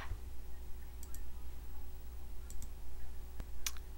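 A computer mouse clicks a few times, sharp little taps in pairs against a steady low hum.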